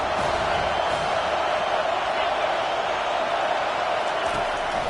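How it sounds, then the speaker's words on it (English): Steady dense stadium crowd roar in a college football video game, TCU versus FSU on third down, continuous and loud without clear peaks. "Decibels rising as the crowd gets behind this defense on third down."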